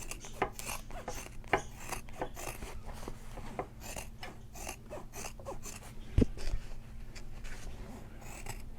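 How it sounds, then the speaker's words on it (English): Scissors trimming a fabric seam allowance on a shoulder bag, with quiet, close snips and rasping strokes in an irregular rhythm, ending in one sharper cut near the end. "And now I am going to trim off half the seam, half the width of the seam"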